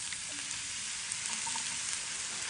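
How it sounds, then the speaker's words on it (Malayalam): Chopped onion sizzles in hot vegetable oil in a pan, a steady bright hiss with faint crackles and no one talking. "അതിൽ കുറച്ച് ഒനിയൻ കട്ട് ചെയ്തത് ഇട്ട് കൊടുക്കാം."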